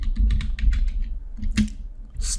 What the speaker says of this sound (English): I'll just type in select